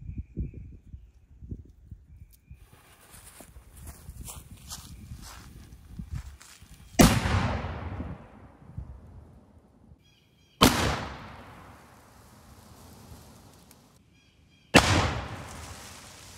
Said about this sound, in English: for our next shot, we've got our steel cannonball loaded up. Let's see what this does to our stand-in pirate ship.